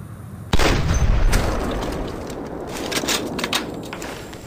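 A gunshot in the video game Sierra 7 as an enemy is shot: one sharp, loud blast with a booming tail, then softer clatter and ringing room tone.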